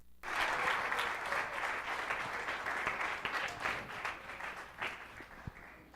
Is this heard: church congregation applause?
yes